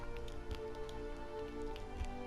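Steady rain in the video game Pillars of Eternity patters continuously on a surface, with occasional heavier drops, no voices.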